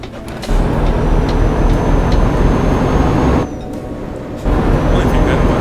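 Loud, steady truck engine drone in Euro Truck Simulator 2, a continuous low rumble that drops briefly near the end before returning.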